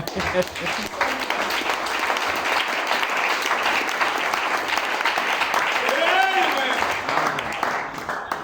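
A church congregation claps in sustained, dense applause, with voices talking and calling out over it throughout.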